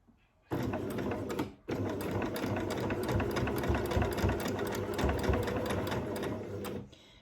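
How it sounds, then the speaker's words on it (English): A sewing machine runs close up while back stitching a dog bandana, a fast steady mechanical whirr that stops briefly after the start, then resumes and runs for about five seconds before cutting off. "I usually back stitch it a couple of times right here"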